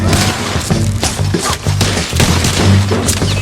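Gunfire during a video game shootout in St. Denis from Red Dead Redemption 2, dense overlapping shots and heavy booming impacts firing almost continuously at close range, loud and without pauses.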